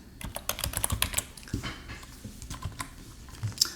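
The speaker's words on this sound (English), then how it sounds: "my typing's terrible" Fingers tap on a computer keyboard in quick irregular bursts of close, crisp keystrokes, with short pauses between clusters and no talking.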